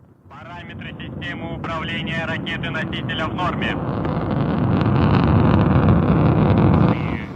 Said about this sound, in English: we have liftoff of the 93 Progress resupply ship to the International Space Station